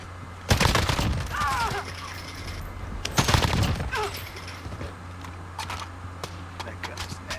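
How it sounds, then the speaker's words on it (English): LMG gunfire in the video game Call of Duty Warzone, two dense, loud bursts of rapid shots followed by scattered fainter shots and clatter, with some talk over it. "Bro, that LMG does so much damage."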